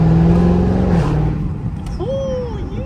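Dodge Hellcat Redeye with an AWE exhaust revs loud and close, its steady drone dropping at a gear shift before climbing again with a rising supercharger whine, heard from inside the car in traffic.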